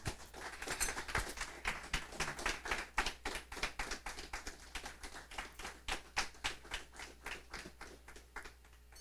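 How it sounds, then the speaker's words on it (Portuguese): Church congregation applauding during a sermon, with a steady run of rhythmic, fairly even claps that carries on for several seconds with no voices over it. "Você quer aplaudir? Pode aplaudir."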